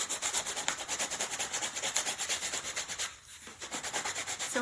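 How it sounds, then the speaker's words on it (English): A Christmas ornament cast from a Decor mold is hand-sanded with a rougher sanding pad, making steady, close scratchy rubbing strokes in a quick regular rhythm, with a brief pause before the strokes resume. "I can do it a little bit quicker though with a little rougher pad,"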